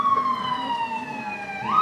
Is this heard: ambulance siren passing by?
yes